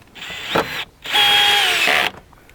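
A power drill whirs in two bursts, a short one then a longer strained run, as it drives a bolt home while a door actuator is replaced on a 2014 Ford F-150.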